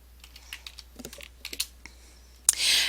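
A computer keyboard clacks in a quick, uneven burst of keystrokes as a tag is typed, close and fairly clear, ending in a louder click and a short hiss.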